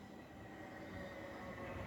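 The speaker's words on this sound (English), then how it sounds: "Oh, we've got another train coming in" A Class 455 electric train pulls into Raynes Park station, its wheels squealing steadily against the rails for a couple of seconds, heard from the platform.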